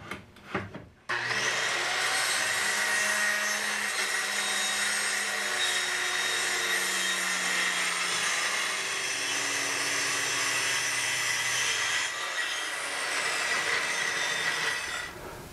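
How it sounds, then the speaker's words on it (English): A circular saw cutting a board to length along a clamped straight edge: a sharp start, then a long loud continuous whining rip through the wood, slowly winding down at the end. "Cut it to length, I'll just be using a straight edge clamp to the board and my circular saw."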